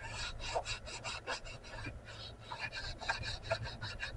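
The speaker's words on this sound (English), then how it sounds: "Now I gotta clean that seat. Yes, it's sandpaper," Hand sanding of a seat with 320 grit sandpaper: a close, steady series of rasping back-and-forth strokes, each scrape clearly separated in a quick rhythm, with no talking.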